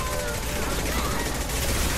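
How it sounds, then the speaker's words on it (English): Dense, continuous heavy gunfire in a Mass Effect 2 firefight, rapid overlapping shots forming a loud, unbroken wash of noise with a voice faintly mixed into the chaos. "Taking heavy fire."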